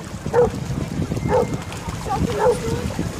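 A puppy gives three short, high yips at even intervals, close by, over a low rumble of movement and background noise.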